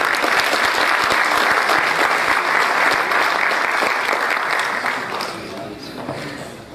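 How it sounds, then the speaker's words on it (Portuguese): Guests at an official Brazilian heraldry and humanities ceremony applaud an honoree recognized for 50 years of law practice; dense, loud clapping fills the room, then thins and tapers toward the end. "Vamos aplaudir o comendador."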